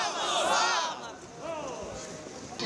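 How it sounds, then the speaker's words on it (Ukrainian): In Odesa, a marching crowd carrying the national flag at a Unity march shouts "Glory to Ukraine", a loud mass of overlapping voices rising and falling in waves. "Учасники розгорнули національний прапор, вишикувалися у колони та разом з вигуками «Слава Україні» вирушили до пам'ятнику Дюку де Рішельє"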